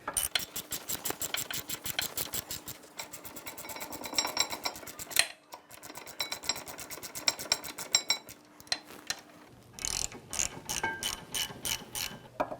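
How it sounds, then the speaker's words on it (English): A 17mm socket on a ratchet tightens the caliper bracket bolts on a 2007-2013 Acura MDX, with rapid, close metallic clicking of the pawl in repeated bursts and brief pauses between strokes. "with a 17mm socket, we'll tighten these down"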